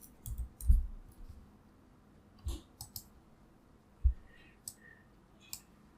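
Mouse clicks on an on-screen button while allowing firewall access on a computer, sharp isolated clicks scattered unevenly, a few louder near the start and around four seconds, otherwise a quiet room.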